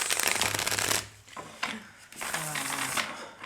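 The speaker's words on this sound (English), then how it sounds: "I need to shuffle to clear the energies a little bit after this interruption" A deck of cards is shuffled at close range in quick riffling bursts. Two fast, crisp flutters are separated by a brief pause, with no speech over them.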